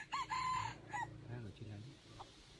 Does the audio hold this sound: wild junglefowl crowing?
yes